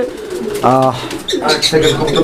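A white domestic pigeon coos in a few short throaty calls, close and fairly loud, with a voice talking nearby between the calls.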